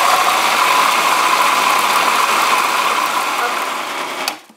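A kitchen appliance whips cream for a chocolate mousse layer, a loud, steady, close whirring and buzzing motor that runs continuously and then winds down at the end.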